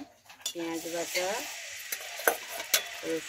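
Onion paste fries in oil in a wok, with a soft sizzle under squeaky scraping as it is stirred, followed by a few sharp spatula knocks.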